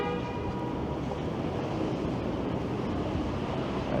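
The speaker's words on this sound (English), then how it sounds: "As the subway rumbles directly underneath it." A Toronto subway train rumbles underground beneath University Avenue near the Four Seasons Centre, a continuous low, dense roar that holds steady and fairly loud throughout.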